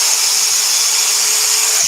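A power drill boring a hole through a wooden piece for a 3D scroll saw castle, a steady, loud, close whirring with no pauses throughout.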